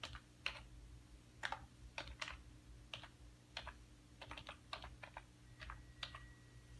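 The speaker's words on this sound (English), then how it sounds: "Let's go ahead and type here, and we'll see how well I can type one-handed." Key clicks from someone typing one-handed on a computer keyboard, quiet and close, in irregular bursts of taps against a steady low hum, with no talking.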